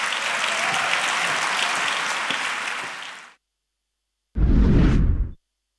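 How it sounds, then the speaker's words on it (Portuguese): An audience applauds the President of the Republic at a formal ceremony in Lisbon. The clapping is loud and sustained for about three seconds, stops, then comes back in a shorter, dense burst. "um aplauso para o Sr. Presidente da República"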